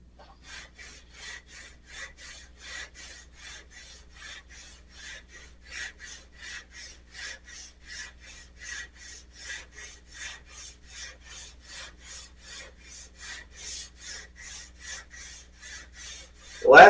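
A sanding block wet sanding lacquer paint on a Corvair, rasping in steady back-and-forth strokes, about thirty even passes, close and alone, ending with a sharp bump.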